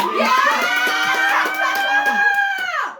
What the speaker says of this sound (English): give us a cheer if you think Nathan shouldn't get 5 points